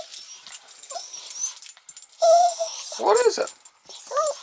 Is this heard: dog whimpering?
yes